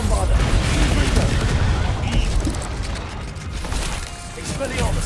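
Spell explosions from Bombarda and Confringo in the Hogwarts Legacy video game, a loud, continuous barrage of booming blasts and crackling bursts that fills the whole clip with rumbling low end.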